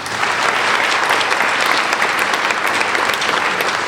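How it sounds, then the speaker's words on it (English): Steady, dense applause from a large graduation audience at a 2021 OTC Middle College ceremony, loud and continuous throughout with no break and no speech over it. "Please join me in giving them a round of applause."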